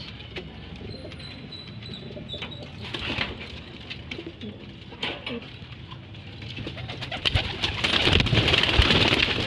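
Pet pigeons coo softly in the open, mixed with faint chirps and ambient noise, building to a louder burst of wing flapping near the end as the flock takes off.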